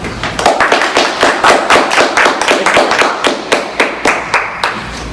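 Applause from a small audience at a Toastmasters club meeting after a speech, with loud, close, rhythmic clapping at a steady pace that thins out toward the end.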